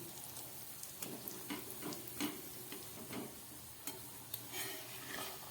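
Gentle, low sizzling of a vegetable roll frying in a pan over a low gas flame, with occasional light clicks and taps, close and quiet.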